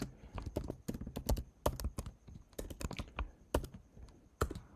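Fingers type on a computer keyboard, a quick irregular run of close, crisp key clicks with brief pauses between bursts, without talk.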